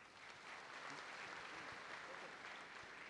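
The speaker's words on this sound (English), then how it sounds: "Give a good applause for him." An audience of students applauds one of their own with a faint, steady wash of clapping heard from a distance.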